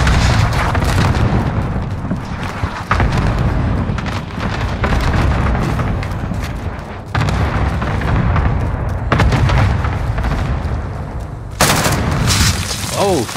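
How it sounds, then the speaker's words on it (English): Repeated heavy explosions from a cluster strike in a first-person shooter game boom loudly in quick succession, with rumbling blasts layered over gunfire and a dense, sustained roar throughout. "Allied cluster strike inbound."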